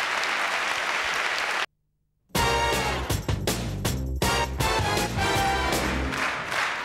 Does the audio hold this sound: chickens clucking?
no